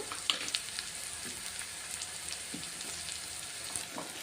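Green chillies fry with tempering spices and ajwain in an iron kadai, making a faint, steady sizzle dotted with small pops and light stirring ticks.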